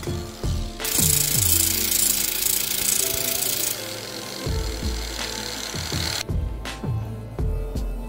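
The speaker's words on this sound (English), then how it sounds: "Use your preferred method to cut the rod and remove any burrs." Cutting an 8mm stainless steel rod with a power tool, heard as loud close grinding and rattling with repeated metallic ringing strikes, one sustained harsh high-pitched section in the middle, and no speech.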